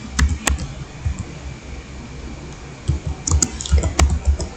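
Someone types on a computer keyboard while entering a search into a browser, producing close, crisp key clicks in short bursts with pauses between them.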